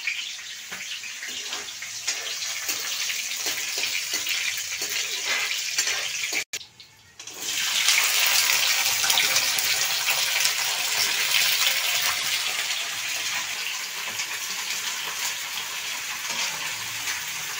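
Chop frying in a pan at home: a dense, steady hiss of sizzling and spattering oil runs throughout, pausing for a moment before resuming even louder and broader.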